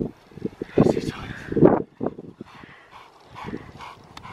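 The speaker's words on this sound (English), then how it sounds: "There's literally like 10 dogs down there and Bear has disappeared off into the crowds" Several dogs playing in an open field, with scattered barks, yips and whimpers rising and fading at mid distance amid outdoor bustle, and people talking over them.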